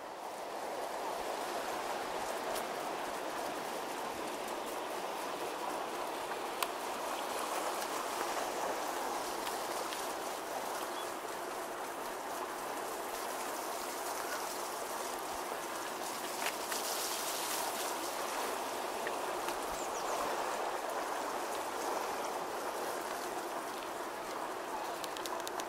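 Water of the River Almond flows steadily beneath a bridge near where a mill lade rejoins the river in autumn, a constant broadband rushing wash with faint birdsong above it and no talk.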